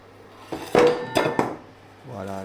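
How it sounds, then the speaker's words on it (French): A saucepan drops onto a hard surface during an electronics bench demonstration, giving a couple of loud metallic clatters and a brief rattle before a low hum rises again. "Voilà, la casserole, je l'ai laissé tomber."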